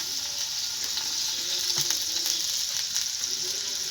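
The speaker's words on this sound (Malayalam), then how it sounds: "കടുക് ഇട്ട് കൊടുക്കുക." Mustard seeds crackle and pop in a little hot ghee in a pan, a steady close sizzle with faint scattered pops and no voices.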